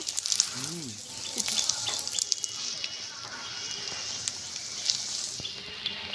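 Mini Mughlai parathas frying in a little white oil: a constant bright sizzle with scattered crackles and pops, close and fairly loud, with a short tonal sound near the start.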